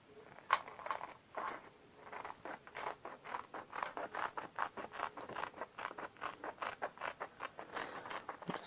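Scissors cutting apart a transfer sheet, a faint close series of steady rhythmic snips and crisp paper rustles in a quiet room.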